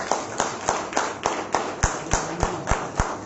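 Rhythmic clapping at a Sunday church meeting, a dozen or so evenly spaced claps in a steady beat from a group, crisp and fairly close, with no voices over them.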